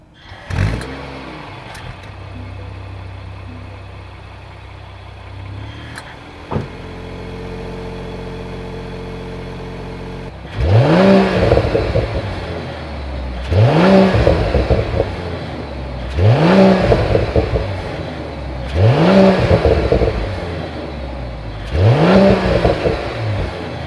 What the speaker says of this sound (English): Now let's hear the exhaust on the CLE 53.